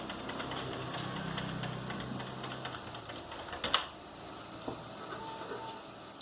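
Keys pressed on a computer keyboard during a Windows repair, with a sharper Enter keystroke near the middle among steady background noise, no talk.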